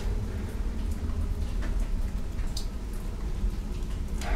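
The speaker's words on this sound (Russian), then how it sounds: "На самом деле это идет дождь." Steady rain pours down at night in a forest, a dense hiss with occasional nearer drops pattering, continuous and fairly loud throughout.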